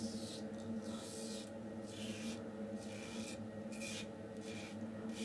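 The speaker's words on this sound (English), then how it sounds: "we'll talk about it while we shave with the Edwin Jagger 3ONE6 and the Lord Super Stainless Blade" Shaving with an Edwin Jagger 3ONE6 safety razor fitted with a Lord Super Stainless blade, producing quiet, close, rhythmic scratchy strokes across stubble in short repeated passes with brief pauses between them.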